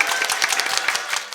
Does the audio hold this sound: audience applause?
yes